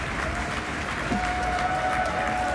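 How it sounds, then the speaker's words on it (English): A crowd of colleagues outside mission control at SpaceX in Hawthorne, California applauds, steady continuous clapping with faint cheering mixed in, heard at a moderate distance throughout. "It looks like we got a crowd at our Hawthorne, California location."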